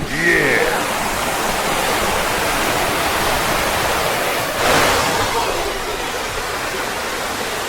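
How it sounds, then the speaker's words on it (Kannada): Steady, loud rush of falling water fills the whole clip, a broad continuous roar with a brief swell midway. "ನೀರಿನ ಸೌಂಡ್ ಕೇಳಿದ್ರೆ ಸಾಯ"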